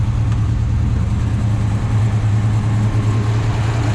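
A 1969 Camaro Z/28 with its DZ 302 V8 idles while warming up, a loud, steady low rumble with an even pulse, close by and without any talking.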